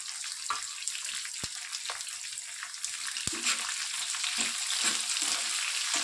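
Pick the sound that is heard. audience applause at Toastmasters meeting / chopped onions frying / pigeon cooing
chopped onions frying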